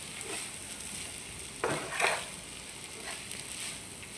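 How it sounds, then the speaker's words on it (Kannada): A spoon stirs vermicelli upma in a pan over a low gas flame, with soft scraping and gentle sizzling, plus a couple of brief louder stirring scrapes near the middle. "ಚೆನ್ನಾಗಿ ಸ್ಲೋ ಇಟ್ಟು ಗ್ಯಾಸ್ ಲೋ ಫ್ಲೇಮಲ್ಲಿ ಇಟ್ಟು ಚೆನ್ನಾಗಿ ಮಿಕ್ಸ್ ಮಾಡಬೇಕು"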